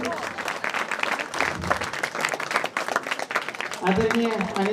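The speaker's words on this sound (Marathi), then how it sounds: "तुमच्या टाळ्यातून सरांवरचं प्रेम दिसते" Audience clapping for a teacher being honoured at a prize distribution ceremony, steady applause filling the hall with crowd noise and some voices mixed in, louder toward the end.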